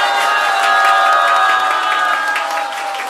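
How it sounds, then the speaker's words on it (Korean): Dense, sustained applause from an indoor lecture audience, many hands clapping together loudly and steadily before tapering slightly at the end. "다시 한번 신님께 뜨거운 감사의 박수 올려주십시오."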